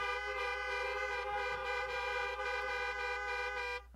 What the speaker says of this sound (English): would you please honk your horn?